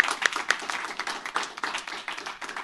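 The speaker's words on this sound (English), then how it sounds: "round of applause for them and all their hard work" A small audience at a comedy festival casting panel claps in short, uneven bursts, with individual hand claps standing out clearly against a light background.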